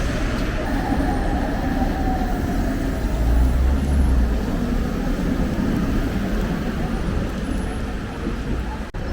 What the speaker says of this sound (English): I love a retro tram. These must be from the socialist period.